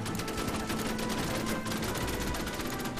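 Rapid, continuous bursts of gunfire from the strategy video game Order of Battle, with dense rattling volleys overlapping throughout at a steady loud level and no voices.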